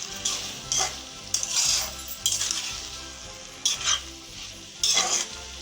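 A spatula stirs eggplant with fried egg pieces in a hot pan, scraping in repeated strokes over a constant sizzle of frying, close up with no talk.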